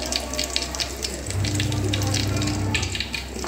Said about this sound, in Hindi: देखिए, हमारी मिर्ची अभी फ्राई हो चुकी है